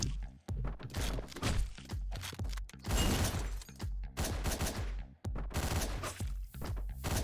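Silenced pistol shots from the top-down action game Hotline Miami, played on a New Game Plus run, fire as dense, repeated bursts over loud, busy game music and impacts, with no pauses between volleys.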